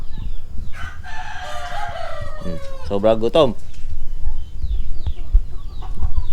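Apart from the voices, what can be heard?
rooster crowing and chickens clucking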